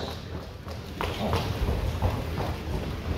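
A horse walks into an auction sale ring, its hooves clip-clopping in a quick, close run of distinct beats on a hard floor.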